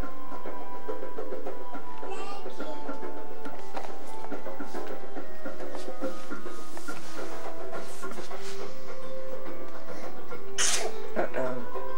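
A sneeze sounds in a home video of a mother with small children, a sharp burst late in the clip over household noise and a woman's chatter.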